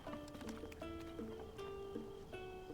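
Horse hooves in the video game Zelda: Tears of the Kingdom, a quiet, steady clip-clop rhythm under faint game music, with no talking.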